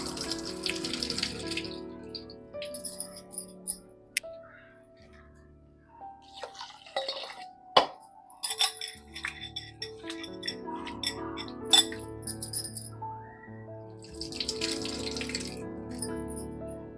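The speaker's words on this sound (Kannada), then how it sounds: "ನೋಡಿ, ಫಸ್ಟು ಸ್ವಲ್ಪ ತೊಳೆದು ನೆನೆಸಿಡ್ತೀನಿ." Rice being washed under a running kitchen tap, water streaming and splashing in a vessel in uneven bursts with small clinks and drips, fairly close and quiet, with pauses between the flows.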